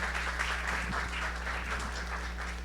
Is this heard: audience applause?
yes